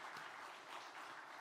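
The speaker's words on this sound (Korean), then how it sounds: "귀하게 섬겨주신 귀한 찬양팀에서 한번 박수 한번 하겠습니다" A church congregation at a Wednesday worship service applauds the worship team, a soft, steady wash of clapping that stays quiet and distant throughout, with no one speaking.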